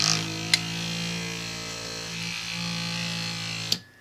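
A repaired Kemei hair trimmer runs with a steady, high electric buzz, with a sharp click near the start and another just before it cuts off.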